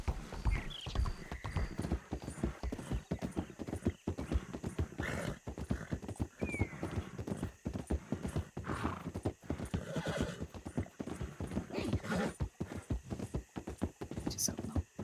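Horse hooves clip-clop steadily in a Western ranch roleplay video game, with a neigh or whinny rising over the hoofbeats and people talking over the sound.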